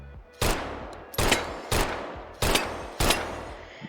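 Sten open-bolt submachine gun in the VR game H3VR, five sharp single shots at a steady, unhurried pace, each loud and close with a short decaying tail.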